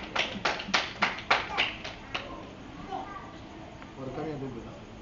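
A church congregation bursts into rhythmic group applause, about seven strong beats over the first two seconds, then fading into murmured voices and people speaking.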